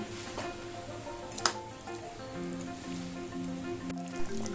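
Fish curry gravy for foli fish boiling in a pan, a soft steady bubbling and sizzling with occasional small pops, quiet and close.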